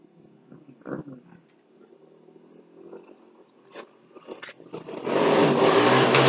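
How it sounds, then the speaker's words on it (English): A motorcycle approaches through faint background noise and a few scattered knocks, then its engine revs up loud and close over the final second or so. "Here's a motorcycle."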